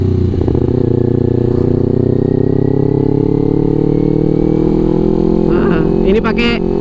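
Kawasaki Ninja 250 FI motorcycle with a short Vilan exhaust, heard close and loud as a steady, buzzy engine drone that holds its pitch with a slight sag throughout.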